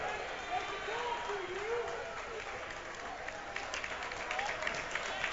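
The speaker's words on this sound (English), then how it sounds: "And he'll get a nice cheer from the Bowling Green faithful on his way to the locker room" Bowling Green faithful at a high school basketball game cheer and clap as an ejected player heads to the locker room, a sustained crowd roar with a broadcaster talking over it.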